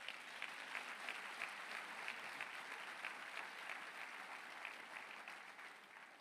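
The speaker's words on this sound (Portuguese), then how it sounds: "Quem crê, aplauda o Senhor." A church congregation applauds continuously at a sermon, the dense clapping even and sustained, heard from some distance and fairly quiet, with no talk over it.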